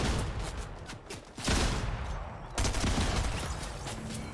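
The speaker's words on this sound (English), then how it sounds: "We're being shot at" Gunfire aimed at the player in a video game, a dense volley of rapid shots with two louder bursts breaking through, close and continuous.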